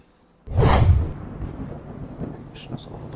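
A sudden heavy rumble of thunder bursts in after a quiet moment, then fades into a steady rushing wash like rain.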